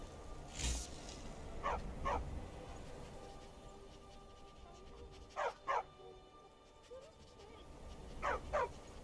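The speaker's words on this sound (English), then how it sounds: "Oh, stray dog." A stray dog in Skyrim barks in pairs of sharp barks, three double barks spaced a few seconds apart, moderately close over faint background ambience.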